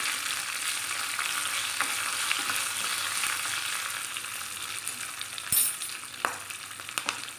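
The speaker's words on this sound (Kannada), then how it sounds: "ಸ್ವಲ್ಪ ಕರಿಬೇವು ಸೊಪ್ಪು, ಮೆಣಸಿನ್ಕಾಯಿ ಹಾಕ್ಕೊಳ್ಳೋಣ. ಸ್ವಲ್ಪ ಫ್ರೈ ಆಗ್ಬಿಡಿ." Curry leaves and green chillies fry in a pan with a steady, bright sizzle that runs unbroken throughout, close and even, with a couple of short stirring knocks near the end; nobody speaks.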